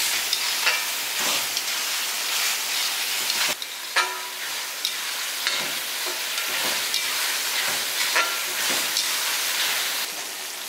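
Tomatoes sautéing in a pan for mutton curry, a steady loud sizzle with occasional stirring scrapes and clatters throughout, close by, with no talking.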